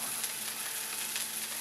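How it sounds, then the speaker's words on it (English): Ginger frying in hot oil in a wok, a steady bright sizzle with faint crackles, close and continuous, no voices. "we're going to take our ginger, and we're going to dump it into the pan"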